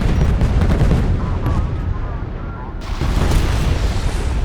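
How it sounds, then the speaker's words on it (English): Explosive charges detonate in Homeworld: Deserts of Kharak, a loud, continuous rumbling roar of blasts with crackling debris that swells again near the end, under game music or effects. "Pull back to a safe distance and initiate detonation."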